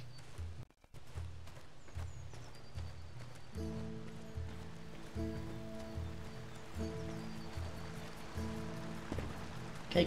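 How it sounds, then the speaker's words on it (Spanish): Rain patters steadily in a video game village, a faint continuous hiss of drops beneath a looping rhythmic music track, with no talking. "Empezó a llover"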